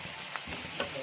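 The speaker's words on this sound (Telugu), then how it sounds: "ఉల్లిపాయలు చక్కగా మగ్గుతున్నాయి కదండి" Onions, curry leaves and tempering seeds fry in hot oil in a pan, giving a brief, fairly soft sizzle with a few crackling spits.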